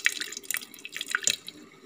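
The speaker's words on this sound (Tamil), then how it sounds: "நாம் தண்ணியை வடிகட்டிட்டு பருப்பு மசிச்சிக்கலாம்." Water drains off cooked lentils for sambar, with light splashing and steady drips and trickles close by, no voices.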